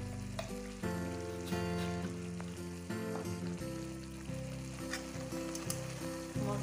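Masala with turmeric frying in a pan for chicken and potato curry, giving a quiet, steady sizzle with occasional soft pops and stirring noises close by.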